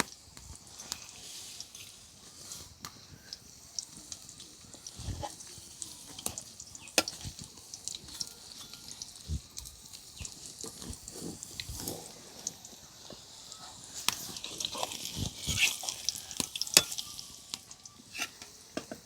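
Pieces of semolina barfi frying in hot oil in a home kitchen give a steady soft sizzle with scattered crackles and pops, close and fairly quiet, with no voices.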